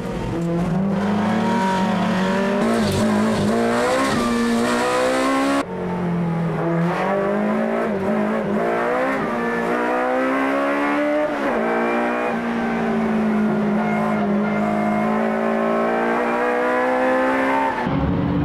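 Toyota AE86 race cars' engines roar and rise and fall in pitch as they brake and accelerate on track, a continuous close-up mechanical whine throughout.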